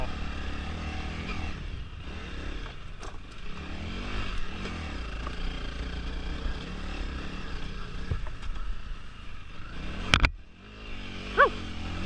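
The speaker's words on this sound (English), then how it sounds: "we're definitely revving her out a little more" A Honda CRF300L dirt bike engine drones steadily nearby on a trail ride, its pitch rising and falling as it revs, with a couple of sharp bursts near the end.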